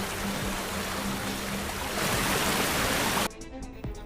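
Heavy rain pours as a dense, steady roar for about three seconds, then cuts to a quieter, thinner patter at the end, with no talking.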